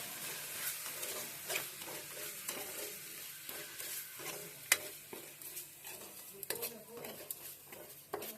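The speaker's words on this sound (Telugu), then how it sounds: "గరిట పెట్టి బాగా కలుపుకున్నాం" A ladle stirring rava fish pulusu, a fish curry, in a pan: repeated scraping strokes and sharp metallic clinks over a soft sizzle, fairly close, with faint talk now and then.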